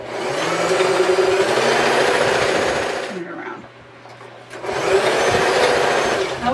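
A sewing machine stitches down the sides of a bag made from a placemat, running loud and steady, pausing briefly partway through and then starting up again for a second run.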